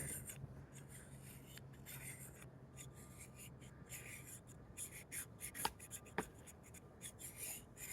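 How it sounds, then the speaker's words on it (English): A spokeshave blade is drawn back and forth across a diamond sharpener in short rasping strokes, quiet and close, with a couple of small sharp clicks and no talk. "I roll the blade down into position so the blade's touching the diamond sharpener, and I just go back and forth a few times"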